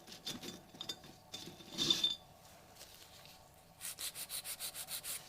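A 180 grit file rasps quickly along the sides of an acrylic nail, first in a few irregular soft strokes, then a steady run of about eight rapid, even back-and-forth scrapes close up, with no talking.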